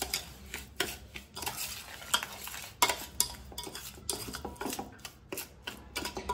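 Spoon repeatedly stirring a thick Mysore pak (seven cups cake) mixture blended with almond, cashew and coconut powder in a pan, with close scraping and clinking strokes in an irregular rhythm and no talk.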